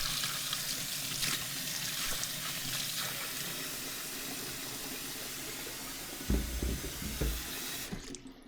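Tap water runs steadily into a kitchen sink as vegetables are rinsed for a pot roast, a continuous close splashing hiss with heavier water thuds and clatter near the end, no talking.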